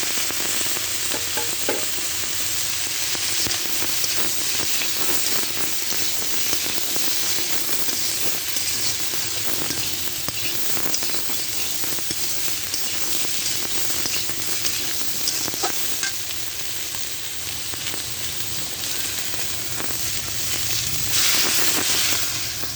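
Washed papaya frying in a hot pan for shukto, a continuous loud sizzle and hiss with stirring scrapes, steady throughout and close, with no voices.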